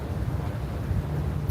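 Outdoor wind buffets the microphone with a continuous low rumbling roar, loud and close throughout the short stretch.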